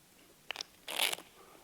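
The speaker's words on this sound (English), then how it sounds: "Now give it crunch shuffle." A deck of playing cards given a crunch shuffle during a live stage show, heard as a brief crackling, riffling burst of cards pressed together, preceded by a couple of short clicks, fairly faint and with no talk.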